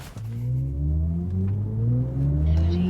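A BMW i4 M50 electric car with over 500 horsepower launches hard from a standstill, its motor whine rising smoothly in pitch under a steady rush of road and tire noise, with no talk.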